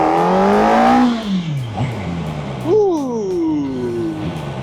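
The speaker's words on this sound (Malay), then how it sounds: "Okay, kita try pecut sikit." An SRK 421 naked motorcycle of about 400cc accelerates hard through a factory area. The engine note climbs in rising revs, drops at a gear change, then surges upward again, loud and close.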